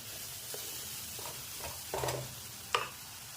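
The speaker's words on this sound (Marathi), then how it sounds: "एक दोन मिनटं आपल्याला हे सगळे मसाले याच्यामध्ये परतून घ्यायचे आहे" Spices being sautéed and stirred in a pan for a puri bhaji potato curry, with a quiet steady sizzle under a few soft scraping stirs and one sharper clink near the end.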